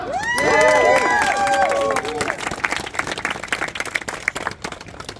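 A crowd at a Central Park Upper West Side tournament celebration applauds and cheers, loud and dense at first with whistles and whoops, then thinning into scattered claps and voices.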